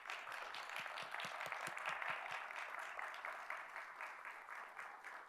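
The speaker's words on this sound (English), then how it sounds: "we can give you a round of applause." Audience applause for a speaker's family standing at a Dallas event, steady sustained clapping from a large crowd across the whole stretch, moderately loud and unbroken, with no talk over it.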